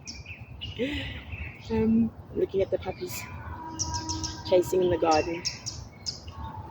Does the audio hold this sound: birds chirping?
yes